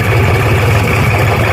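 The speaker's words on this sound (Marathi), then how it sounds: "MH15 हा ट्रॅक्टर आहे," An MH15 tractor idles nearby in a rice field during sowing work, a loud, steady low engine rumble with constant vibration and no change in pace across the short stretch, with no voices.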